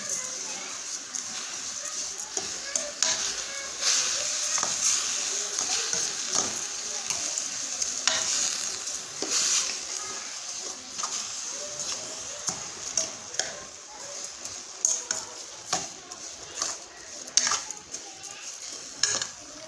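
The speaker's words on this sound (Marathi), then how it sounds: "साखर टाकून हे सर्व आता मिक्स करून घेऊत" Grated carrot halwa with sugar added is stirred in a pan, a spoon scraping and tapping the metal in uneven strokes over a light sizzle, while a person talks and children's voices come and go nearby.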